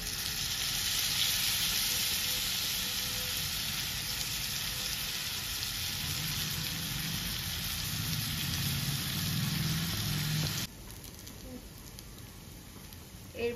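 Garlic paste and ginger paste sizzling loudly in hot oil, a dense close hiss that runs steadily for about ten seconds, then drops abruptly to a much quieter simmer.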